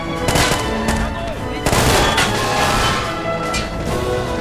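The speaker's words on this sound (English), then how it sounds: "Oh no, machine gun there." Machine gun fire sound effect in a toy soldier war battle between rebels and regime forces, loud rattling bursts with sharper booming shots cutting in, dense and continuous from start to finish.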